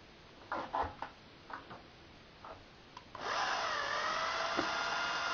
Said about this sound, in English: Change it back over to the screwdriver bit. And you're running your screws again.